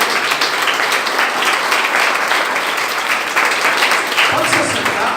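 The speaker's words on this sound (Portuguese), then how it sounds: "Vamos dar uma salva de palmas ao Senhor." Sustained applause from a church congregation during a worship service, many hands clapping in a dense, even roar for several seconds, with faint voices mixed into the crowd.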